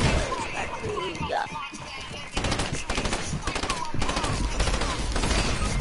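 Rapid automatic gunfire in an arena shooter video game crackles in dense, loud bursts, building into near-continuous fire in the second half, with a player talking over it.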